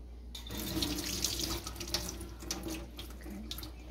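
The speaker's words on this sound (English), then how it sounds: "We're gonna dump the water out and rinse it with cold water." Cold tap water runs into a kitchen sink while instant cold noodles are rinsed, a steady close splashing stream for the full few seconds with small irregular spatters, no voices.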